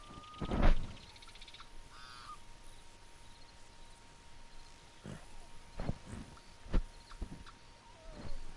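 Birds caw in the Red Dead Redemption 2 game world, with several separate loud calls spaced irregularly over a faint, steady ambient background and a low constant hum.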